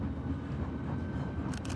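A steady low rumble of a high-speed train rolling past, continuous and moderately distant, with a brief clicking burst near the end.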